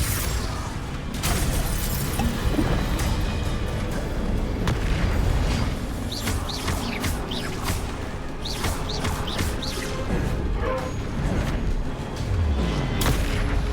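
Bombarda and Confringo spells in Hogwarts Legacy explode again and again in a dense run of booms and blasts mixed with combat effects, loud and continuous, with no talking.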